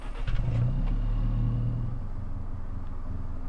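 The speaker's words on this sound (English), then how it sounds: "Oh yeah, you can start the engine." The engine of an Alpine car in Test Drive Unlimited Solar Crown starts with a brief rev, then settles into a steady low idle rumble.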